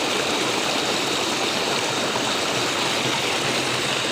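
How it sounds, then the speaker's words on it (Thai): A mountain stream rushes steadily, a dense, even hiss of flowing water, close and loud with no pauses or voices. "ได้ยินเสียงน้ำไหมครับ"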